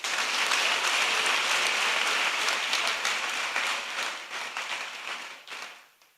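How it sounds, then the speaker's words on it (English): A full audience at a university inaugural lecture applauds warmly, a dense, loud wash of clapping that holds steady for several seconds before thinning out and fading to scattered claps. "I think he deserves another round of applause."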